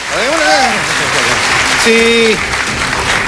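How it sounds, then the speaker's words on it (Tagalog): The studio audience at a 2016 Philippine presidential debate claps and cheers on cue, a dense, loud wash of applause with a host's voice speaking over it. "Palakpak kung gusto nyo."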